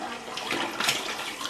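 Water rushing steadily into a rice cooker holding rice, a continuous close splashing pour with no talking.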